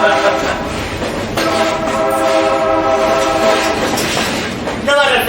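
A Stone Mountain excursion train rumbles along the rails with a steady clatter and sustained horn-like tones as it rolls onto a bridge.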